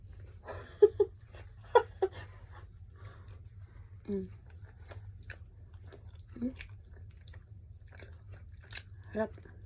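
Someone bites and chews food in a few separate crunchy bites spaced several seconds apart, close up over a low steady hum, with a person talking softly between them.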